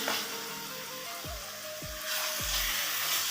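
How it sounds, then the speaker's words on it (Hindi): Turnip bhujia frying over high heat makes a continuous hiss and sizzle in the pan, with three short low thumps partway through and a brighter, louder frying noise toward the end. "तेज़ आंच पे सही अच्छे तरीके से इसकी भुनाई करनी है"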